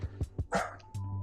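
A recorded dog barks indoors, several short yips and barks in quick succession, close and fairly loud, played back for a dog named Ellie, with a steady hum underneath.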